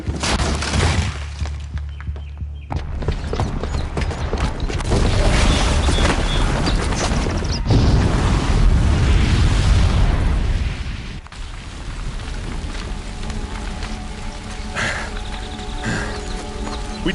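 A bomb goes off in Horizon Zero Dawn as a heavy, sustained roaring blast with crashing, shattering debris. The loud rumble lasts several seconds, then eases into quieter clattering game ambience.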